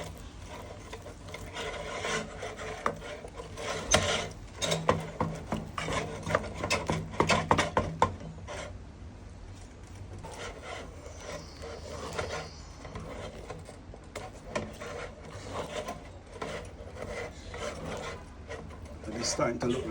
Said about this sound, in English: You want to keep making sure that you smoothen it out as you mix it.